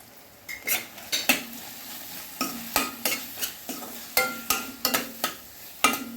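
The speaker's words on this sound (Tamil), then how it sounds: "ஒரு நிமிஷம் இந்த மசாலாலாம் வதக்கிட்டு" A spatula repeatedly scrapes and taps against a pan in an irregular rhythm while turmeric and curry masala powder sizzle softly underneath for kothu parotta, close up with no talking.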